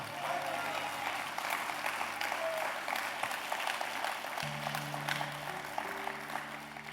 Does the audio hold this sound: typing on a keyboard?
no